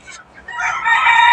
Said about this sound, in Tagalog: nakita nyo naman yung aking mga alaga na manok.